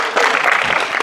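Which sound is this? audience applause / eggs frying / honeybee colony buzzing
audience applause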